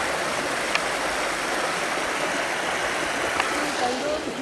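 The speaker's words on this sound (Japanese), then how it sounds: "川が綺麗ですね。" Mountain river in the hills near Ome, a steady broadband rush of flowing water close by, continuous and fairly loud with no talk over it.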